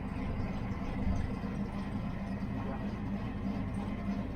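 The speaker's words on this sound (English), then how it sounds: "It sounds like the engine's tight on this thing, guys." A cammed Ford Fox-body car engine idles with a steady low rumble, even and continuous throughout.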